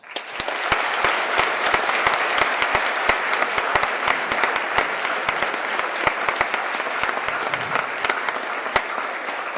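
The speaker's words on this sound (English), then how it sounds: "Please give a big round of applause for our Governor Spencer Cox." A crowd gathered for Utah Governor Spencer Cox at a Cedar City event with high school students gives sustained applause, a steady wash of clapping punctuated by sharp, close claps.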